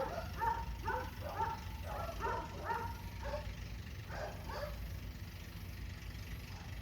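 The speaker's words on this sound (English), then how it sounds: "Hopefully these dogs will be quiet here in a minute." Several dogs bark and yip in a run of short bursts, then a few more barks after a pause, moderately distant and fairly quiet over steady background hum.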